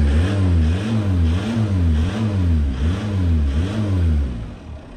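A small diesel car engine with a turbo revs repeatedly in a rhythmic rise and fall, loud and close, then drops back toward idle at the end.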